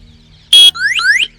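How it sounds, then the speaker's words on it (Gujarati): A bicycle alarm gives a short, loud electronic blast, followed by rising chirping siren-like tones sweeping upward twice. "અલાર્મ"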